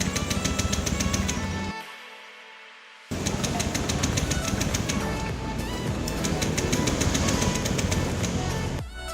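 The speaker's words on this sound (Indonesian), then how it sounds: "Nyalakan mesin motor sampai kondisi mati." A motorcycle engine idles with a busy mechanical chatter, cuts out into near silence, then runs again steadily before dropping away at the end, during a fuel pressure check and ECM reset in a workshop.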